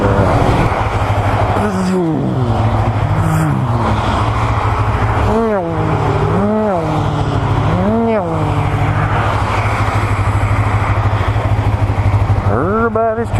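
Motorcycle riding on a road: a loud, constant engine drone with wind rush, several rising and falling engine notes as the rider shifts and accelerates, and a voice speaking over it.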